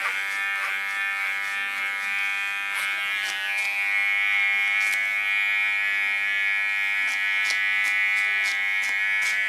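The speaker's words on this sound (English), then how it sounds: "Work clipper over comb." Electric hair clippers working over a comb along the nape of the neck, a steady close buzzing hum that runs throughout, broken by small clicking ticks as the comb and blade move through hair.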